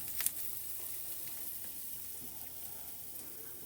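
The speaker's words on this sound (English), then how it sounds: "you can hear the sizzle" Red potatoes frying in a pan for a breakfast scramble, a close, steady crackling sizzle with a brief louder pop near the start and soft stirring underneath.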